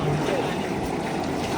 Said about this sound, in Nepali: यो चाहिँ रेली खोला हो